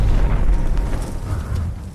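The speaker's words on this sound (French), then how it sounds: "Avec les explosions en fond" Loud, rumbling missile explosions in a movie scene, a dense sustained roar of booms and bursts filling the whole stretch with no clear pauses.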